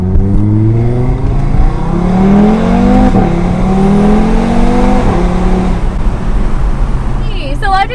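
A 2021 Audi TT RS with a newly fitted downpipe and midpipes revs hard nearby, engine pitch rising and falling in repeated throttle blips with a gruff, loud exhaust note, while a voice talks over it.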